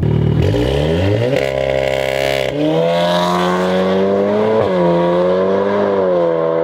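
A VW Mk8 Golf R with a downpipe fitted accelerates hard from close by, the engine roaring loudly and rising through quick gear shifts in one continuous pull.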